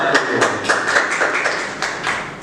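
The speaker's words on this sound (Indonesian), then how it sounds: "Beri tepuk tangan untuk kelompok" A classroom audience clapping for a student group, a small crowd's uneven, distinct hand claps close by, loud and irregular throughout without speech.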